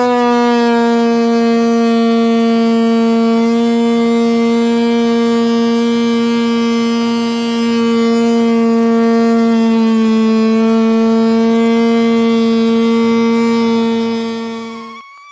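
A Parkside cordless multi tool cutting a groove gives a sustained, loud, steady oscillating buzz with a strong tonal whine for about fifteen seconds, dipping slightly in pitch midway and fading at the end, with no talking.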